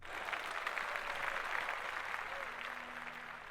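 Studio audience applause, a dense steady clatter of many hands clapping at close range, with a voice faintly underneath.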